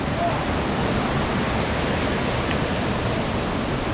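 Bagong Falls in Malico, San Nicolas, a waterfall roaring steadily and close by, a dense, unbroken broadband wash of falling water that fills the whole time with no pauses or voices.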